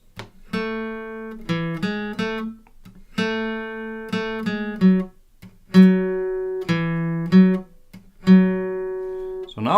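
Acoustic guitar plays the opening bars of a song as plucked, ringing notes in a steady repeating pattern, close and clear with short pauses between phrases and no other sound.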